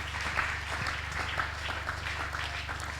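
Congregation applause at a church service: steady, dense clapping from a crowd, moderately distant and consistent throughout with no voices over it.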